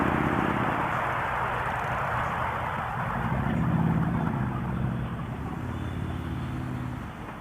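A Honda Goldwing motorcycle cruising on the road, a steady broadband rush of engine and wind noise throughout, with a low rumble underneath.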